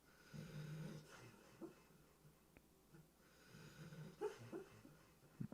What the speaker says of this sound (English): But my dog he's playing in his dream and he's running.